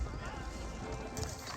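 Horse hooves clip-clop from cavalry in Age of Empires 4, a steady patter of game sound effects running under continuous commentary.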